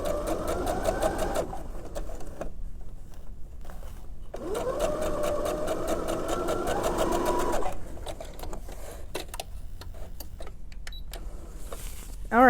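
A sewing machine stitches fabric for a scrunchie in steady whirring runs, stopping and starting several times with brief pauses and soft handling noises between bursts, close up and without talk.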